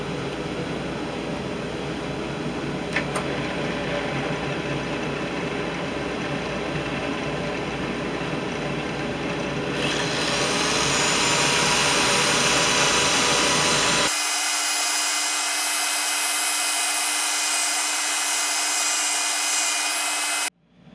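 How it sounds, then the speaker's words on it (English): A cherry wood box is sanded on a lathe while a dust collector runs, giving a steady abrasive rubbing whine over constant machine hum. The sound brightens partway through, then changes abruptly near the end. "Time for sanding. I got the dust collector on."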